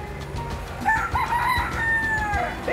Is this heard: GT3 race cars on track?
no